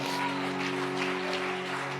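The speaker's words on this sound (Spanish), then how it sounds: "denle un aplauso más fuerte" Church congregation clapping together during a Spanish-language worship service, a steady dense applause that fills the whole moment without a break.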